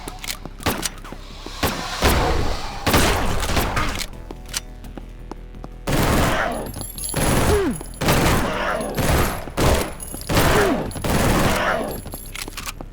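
Video game gunfire in The Last Exterminator, with pistol, shotgun and submachine guns, rattles in loud bursts of rapid automatic shots separated by short pauses, close and dominant.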